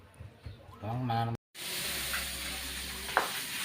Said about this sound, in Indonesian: iki goreng sego jagung dicampuri beras